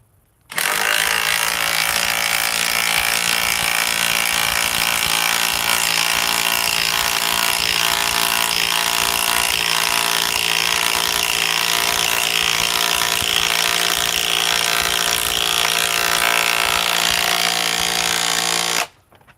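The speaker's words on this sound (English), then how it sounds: "Let's see if the DeWalt acts up again." A DeWalt power tool runs at full speed for about eighteen seconds, a loud, steady mechanical whine with a grinding edge that starts abruptly and cuts off sharply.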